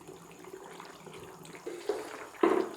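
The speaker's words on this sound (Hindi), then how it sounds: "इसके अंदर मैं थोड़ा सा पानी और ऐड करूँगी" Water is poured into a pot of mutton and okra curry, a soft trickling and splashing that rises to a louder pour near the end, heard close up over quiet kitchen background.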